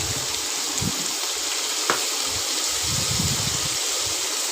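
Chopped tomatoes sauté in a pan for mushroom biryani, giving a soft, steady sizzle with faint stirring scrapes and a brief clink, fairly quiet and without speech.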